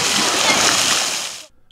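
Bathers splash in lake water at the opening of the swimming season at a century-old lakeside beach bath on the Kyritzer Untersee. The splashing is a loud, dense, continuous wash that stops abruptly.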